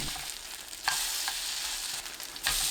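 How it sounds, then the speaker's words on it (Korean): Egg-coated fish cake and tofu pancakes fry over medium-low heat in an oiled pan, a steady close sizzle with a few soft bumps and scrapes, no voices. "중약불로 낮추고 반죽 올려주세요. 천천히 구우면 계란이 익으면서 전이 단단해집니다."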